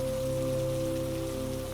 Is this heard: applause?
no